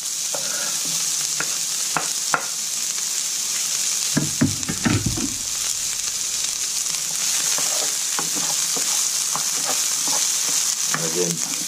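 A chopped brown onion sautés in a pan with a steady broadband sizzle, broken by occasional utensil taps and one louder burst of stirring midway.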